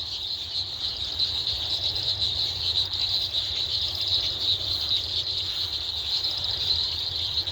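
Frogs call in a garden after rainfall near a dam, their shrill, unbroken trilling chorus filling the air at an even level, with no voices and a faint low rumble underneath.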